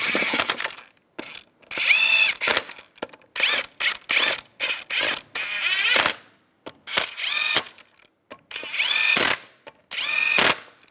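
A power tool drives lug nuts onto the front wheel of a 2002–2005 Chevrolet Trailblazer in a series of short, loud whirring bursts separated by brief pauses, close up.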